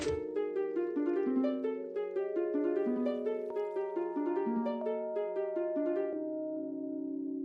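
A tune played on note blocks in the Minecraft video game, a fast, plucky sequence of bright tuned notes with a bouncing melody and repeated low notes, loud and close, no talking.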